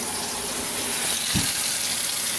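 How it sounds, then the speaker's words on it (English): Water running from a kitchen tap into the sink under a garbage disposal, a steady broadband hiss and gush, close and continuous, with a faint thump partway through. "I've been running water for a little bit."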